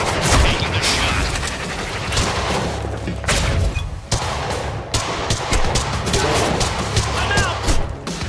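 Gunfire rings out in the video game Quantum Break: rapid, loud bursts of shots and impacts in close succession, with brief pauses and booming hits, dense and continuous across the scene.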